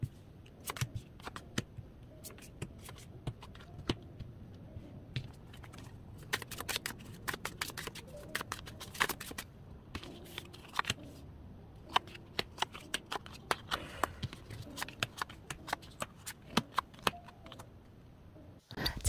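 Tarot cards shuffled by hand in a quiet room, with a run of crisp riffling and slapping bursts, some brief and some longer, alone and close for the whole stretch.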